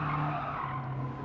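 Tires skid through a handbrake turn in a racing video game featuring a Toyota GT86 and a DC2 Honda Integra Type R: a sustained, steady screech over a droning engine note, close and loud for just over a second.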